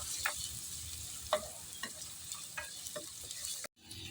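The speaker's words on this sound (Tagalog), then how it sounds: "Igigisa lang natin yung ating luya dyan" Ginger sautéing in hot oil, a quiet steady sizzle broken by soft scrapes of stirring every half second or so, close up, ending in a brief cut to silence.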